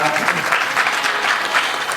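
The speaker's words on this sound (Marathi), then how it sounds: "एकदा सर्वांनी टाळ्या वाजून स्वागत करा" Audience clapping steadily to welcome guests at a religious discourse, a dense, continuous wash of many hands at fairly even loudness throughout, with no voices standing out.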